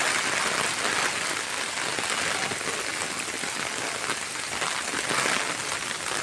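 Heavy rain pours down in a rural Javanese village during the rainy season, a dense and steady loud hiss of drops on surfaces with no pauses.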